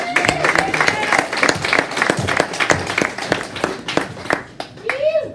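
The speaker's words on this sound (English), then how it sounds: "Give me a round of applause for Chris Schaefer." An audience at a business talk gives a round of applause, sharp dense hand claps close by that swell and fade, with voices speaking through the clapping.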